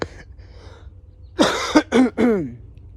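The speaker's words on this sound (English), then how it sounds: "It's just this dry cough I've been having forever." A few harsh, dry coughs in quick succession, close and fairly loud, following a quiet moment with faint background sound.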